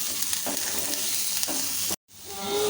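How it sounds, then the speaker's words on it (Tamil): Onions, lentils and chillies sauté in a pan, a steady broadband sizzle with scraping stirs, briefly cut to silence before the frying resumes alone. "எல்லாத்தையும் சேர்த்துட்டு அப்படியே வந்து நம்ம நல்லா கலந்து விட வேண்டியதான் எல்லாமே சேர்ந்து நல்லா வதங்கி ரெடியாகட்டும்"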